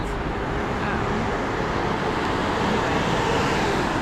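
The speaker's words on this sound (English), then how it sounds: "that truck sounds like a bus, a Dodge" A Dodge truck passes on a city street near Rittenhouse Square, a loud, steady roar of engine and road noise that sounds like a bus and holds throughout, swelling slightly toward the end.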